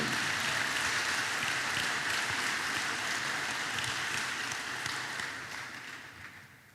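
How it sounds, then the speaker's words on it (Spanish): A church congregation claps together in worship, a dense, steady roar of applause that fades out over the last second or so. "denle un aplauso al Señor"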